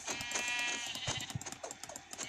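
Sheep bleat repeatedly in the Minecraft video game, several short, quavering cries over a steady, bright game background with small clicks.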